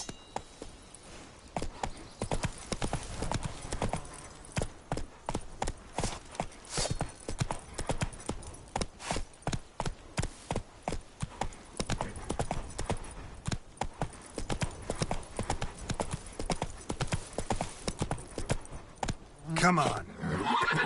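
Horse hooves galloping in The Witcher 3, a loud, rapid, steady clatter of clip-clop beats lasting throughout, with a snort or whinny near the end and a voice speaking over it.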